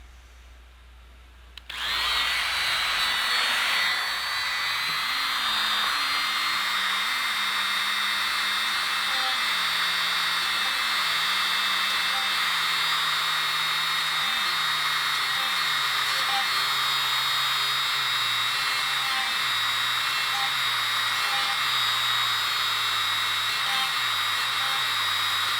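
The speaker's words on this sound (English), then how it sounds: "I'm just going to take my Dremel, turn it on." A Dremel rotary tool clearing holes in garden watering tubing: a steady high-pitched whine starts after a short quiet moment, running continuously with repeated slight dips in pitch as it bites into each hole.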